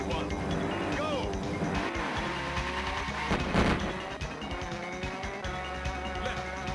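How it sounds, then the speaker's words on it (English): A racing car engine in a video game whines and buzzes steadily under gameplay sound effects while people talk and react over it. "they got an army of bees to do the engine sound"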